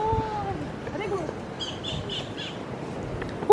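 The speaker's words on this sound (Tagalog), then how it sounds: "ang ganda ng ibon" A bird squawks and calls on a tropical island getaway, a few short harsh cries a little distance off, heard under and between people talking.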